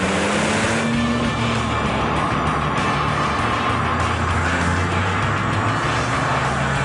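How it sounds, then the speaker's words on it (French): Inside the cabin of a rear-wheel-drive Porsche GT3 RS, the naturally aspirated engine roars as a loud, continuous drone with a rising tone near the start, filling the interior. "le bruit du moteur est bien présent dans l'habitacle, c'est aussi ça une RS."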